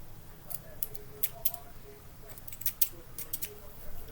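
Scissors snip through yarn string in a few short, quiet, crisp cuts spread across a few seconds over a soft indoor background.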